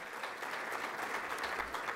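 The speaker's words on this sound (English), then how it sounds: "give her a round of applause" Dense applause from the audience at a graduation ceremony, a continuous even patter heard from a distance and fairly faint throughout.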